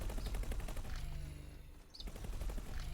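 Rapid bursts of gunfire from the space game X4 rattle in quick rhythmic volleys, fairly faint, with a brief lull in the middle over a low steady hum.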